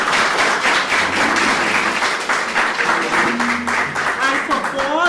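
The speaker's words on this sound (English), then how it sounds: "Give them a round of applause, please." Sustained applause from a seated audience at a disability summit, loud and steady throughout, with a few voices and cheers mixed in among the clapping.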